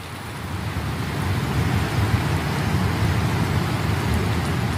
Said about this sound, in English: Much of China has been battling torrential rain and flooding in recent weeks